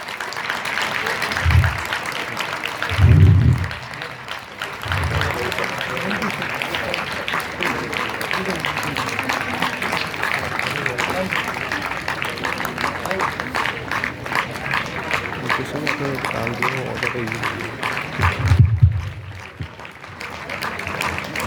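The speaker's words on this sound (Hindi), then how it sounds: "तो फिर तालियां क्यों रुक रही है?" An outdoor crowd applauding steadily at an International Disability Day celebration, continuous clapping throughout with a few louder thumps and a speaker's voice over it.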